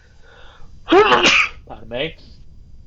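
A single sharp sneeze bursts out loud and close, followed right after by a brief spoken apology from the same person.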